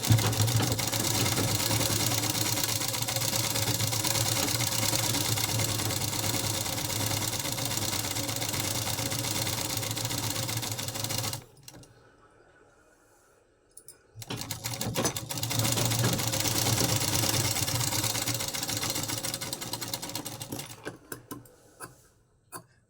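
A sewing machine stitches a blouse, running steadily and loudly for about eleven seconds, pausing briefly, then resuming before stopping in short bursts near the end.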